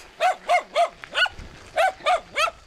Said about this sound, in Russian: Высокогирный пес.